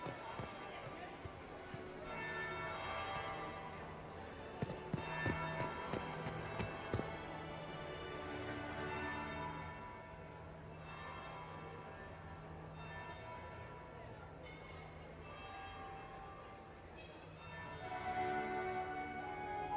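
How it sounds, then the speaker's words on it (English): A bell rings repeatedly through music and game ambience at a noble party in Dragon Age: Inquisition, the chimes struck at an even pace and sitting mid-level among steady background tones, with no talk over them. "That would be the second bell."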